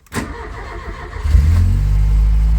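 A Ford Taunus 1.3 car engine cranks briefly, catches around the middle, then settles into a loud, steady low rumble close by.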